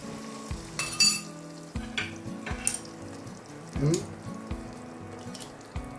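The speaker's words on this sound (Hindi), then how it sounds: "अब इसके अंदर हम तड़का बनाएंगे लहसुन का और जिंजर का" Garlic and ginger tempering in desi ghee for palak paneer sizzles in a pan, mixed with clinks and scrapes of a spoon against the pot and irregular bursts of crackling.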